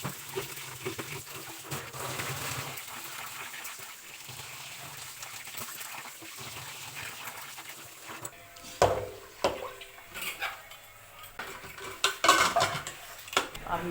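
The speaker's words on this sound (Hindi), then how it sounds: "गाइस जल्दी से चावल धो देती हूँ फटाफट।" Rice is washed in a metal pot, with soft stirring and swishing of water at first, then louder sloshes and the clatter of grains and water against the pot near the end.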